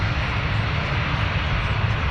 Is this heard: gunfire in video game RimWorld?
no